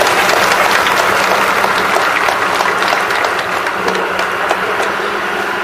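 Audience applause at an outdoor election campaign rally, a dense sustained roar of clapping from a large crowd that stays loud throughout without speech.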